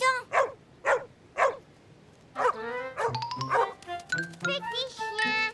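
A small cartoon puppy yips three times in a quick, sharp series, then a voice and cheerful music take over, with a few more faint yelps mixed under the talk.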